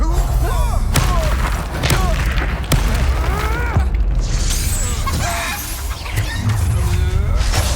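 In the video game Hogwarts Legacy, an Expelliarmus spell is cast amid a duel, with sharp thuds and booming impacts over a dense battle soundscape while voices shout and talk.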